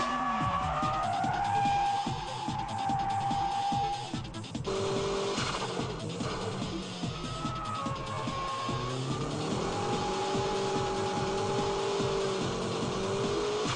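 Tsuchiya's drift car slides under controlled, partial throttle, its engine note rising and falling in sustained tones with tire noise, loud and close throughout with no talk.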